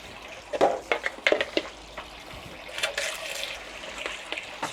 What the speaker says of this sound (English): Fill that up so I can